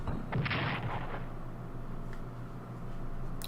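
Artillery fire in the strategy war game Strategic Command, one booming, noisy blast that swells and rumbles for about a second, then a dull tail and faint clicks.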